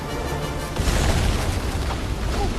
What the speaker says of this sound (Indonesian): lalu melemparkan dinamit itu dan meledak seketika